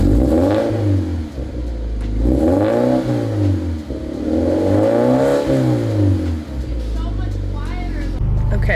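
A Subaru BRZ/Scion FRS/Toyota 86 boxer engine with unequal length headers idles at cold start with a loud, lumpy burble. Revs rise and fall in repeated sweeps, then settle into a rough idle near the end.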